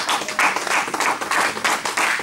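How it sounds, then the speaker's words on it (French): Loud applause rises from a church congregation, dense clapping with a pulsing, rhythmic swell, close and full throughout. "Des acclamations très fortes pour la gloire de notre Dieu."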